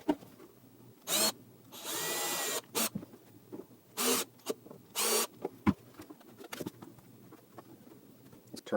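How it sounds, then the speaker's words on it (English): A rivnut tool tightens a rivnut during an Acura Integra cargo net install, producing short bursts of whirring and grinding separated by quiet pauses and small handling clicks, close and fairly quiet. "Turning my tool onto the rivnut here."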